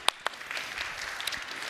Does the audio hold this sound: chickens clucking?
no